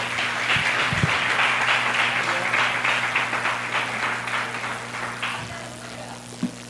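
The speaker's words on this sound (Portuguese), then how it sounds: "Você pode aplaudir ao Senhor." A church congregation claps for the Lord during a morning worship service, steady applause from a full room with a low organ-like hum beneath and a couple of thumps, fading slightly toward the end.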